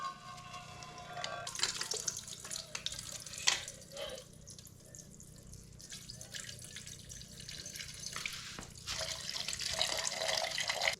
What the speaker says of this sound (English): First off, I'm going to drain the oil and pull the coolant out.